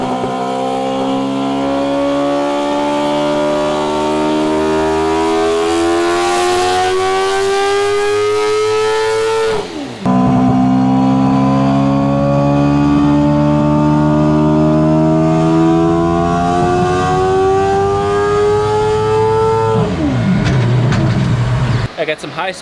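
A four-rotor rotary engine revs hard on a dyno, its loud buzzing pitch climbing steadily through two long pulls with a brief break between, then dropping off at the end.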